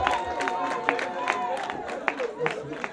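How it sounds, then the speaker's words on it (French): An audience at the 2015 Diaspocam awards ceremony applauds for a best-DJ winner, with scattered claps and crowd murmur under a voice on the sound system. "Applaudissements s'il vous plaît"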